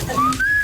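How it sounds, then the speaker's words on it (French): A person whistles a short tune alone, a clear rising melodic line of a few sustained notes with nothing else over it. "Je sifflote."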